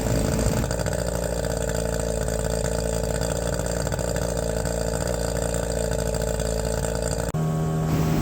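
A Hangkai 18 hp outboard motor on a 14-foot flat-bottom boat idles at its lowest RPM during break-in, with a loud, close, steady drone and a brief hitch near the end.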